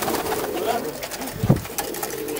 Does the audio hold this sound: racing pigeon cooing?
yes